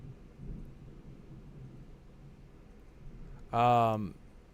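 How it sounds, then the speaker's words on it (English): Thunder from a lightning storm rumbles faintly in the distance as a low, brief swell early on, followed by a voice near the end. "Just heard the lightning."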